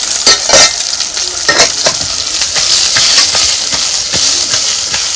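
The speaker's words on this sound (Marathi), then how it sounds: "आता ही सगळी कारली आपल्याला ह्याच्यात परतून घ्यायची" Bitter gourd (karela) pieces sizzle and hiss steadily while being sautéed and stirred in a pan, with close clinks of the spoon against the pan over continuous frying noise and no voices.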